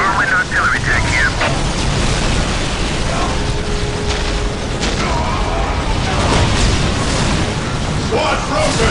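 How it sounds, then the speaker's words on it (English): A Whirlwind artillery tank bombardment in Warhammer 40,000: Dawn of War (2004), with loud, sustained booms and mechanical rumble while voices speak over the battle. "Whirlwind artillery tank here."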